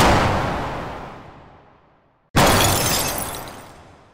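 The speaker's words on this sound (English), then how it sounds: "So I just broke a few glass jars and recorded the pieces." Glass jars smash twice in succession, each break a loud, bright shatter followed by fragments scattering and tinkling as the sound fades, with a brief silence between the two breaks.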